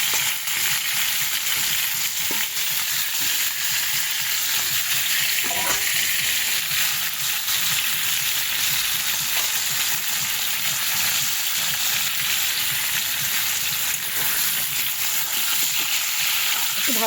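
Potatoes fry in a pan with a steady, even sizzle that holds for the whole stretch, with only occasional faint stirring knocks breaking the continuous hiss.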